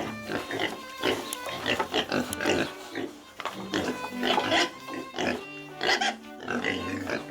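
Pigs grunting and oinking repeatedly in a farm pen, several overlapping calls in an irregular rhythm at moderate volume, with no speech.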